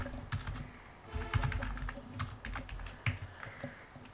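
Typing on a computer keyboard in MS Word, with irregular bursts of close, crisp key clicks and brief pauses between them.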